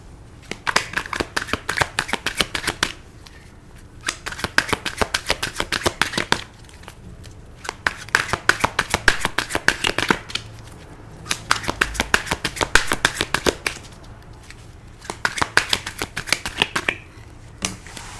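Tarot cards shuffled by hand in several bursts of dense, crisp riffling with short pauses between them, close and clear with no talk.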